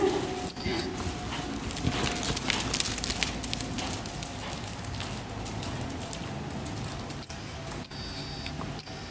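Horse cantering in a riding lesson, a steady rhythmic drumming of hoofbeats close by, with an instructor's voice talking over the gait throughout.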